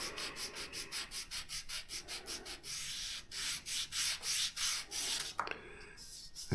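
Sandpaper rubs the wooden wing supports of a J-3 Cub wing build in steady, rhythmic back-and-forth strokes, close and fairly loud with no talking.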